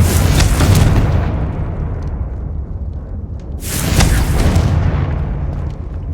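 Confringo spell blasts in Hogwarts Legacy video game: two loud, deep booming explosions a few seconds apart, each with a rumbling tail.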